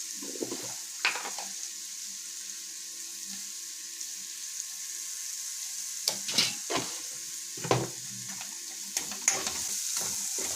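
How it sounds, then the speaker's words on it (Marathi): Spicy village-style potato bhaji being stir-fried in a pan, a steady close sizzle with scattered scraping and clinking stirs that cluster in bursts toward the end. "चला ह्याला परतून घेऊया थोडंसं."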